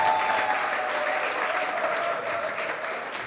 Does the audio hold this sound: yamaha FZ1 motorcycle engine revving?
no